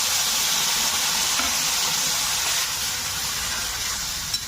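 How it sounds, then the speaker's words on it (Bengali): Tomato paste, green chilli and cardamom hitting hot oil for butter paneer, a loud, dense sizzle and hiss of frying that holds steady up close, with no talk over it. "এখন আমি পেস্ট করে রাখা টমেটো, কাঁচা লঙ্কা আর এলাচ দানা দিয়ে দেব।"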